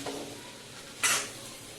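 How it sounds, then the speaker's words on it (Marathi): Mixed vegetables sautéing in oil, as for a traditional Bhogi bhaji, give a soft continuous sizzle with one brief burst of louder frying and scraping as they are stirred. "तेलावर या भाज्या आपण छान परतून घेऊया"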